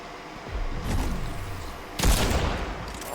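Gunfire in a first-person shooter game plays in two bursts, a softer volley early on and a louder, sharper burst near the end, close and punchy with no talk over it.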